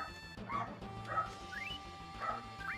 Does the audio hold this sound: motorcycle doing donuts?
no